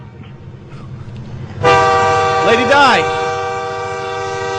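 A loud, sustained train horn blares over a rumbling passing train, with brief shouting voices just before it.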